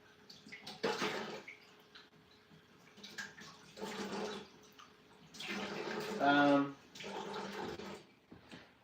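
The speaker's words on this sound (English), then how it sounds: "Allow me to rinse my stuff." Bar tools are rinsed under a running tap in bursts of splashing water, with a person talking softly between and over the rinsing.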